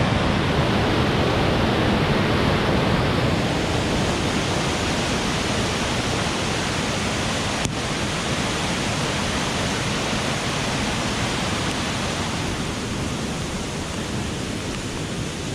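Flume Brook rushes along a hiking trail, a loud, steady broadband roar of flowing water that holds constant throughout with no voices.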